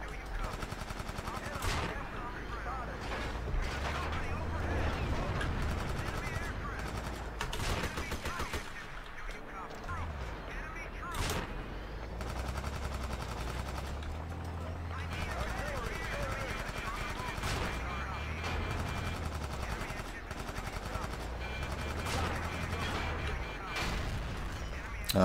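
Battlefield 2 online match on Wake Island, with constant rattling gunfire, bursts of automatic fire and booming explosions, dense and continuous and partly under a voice talking.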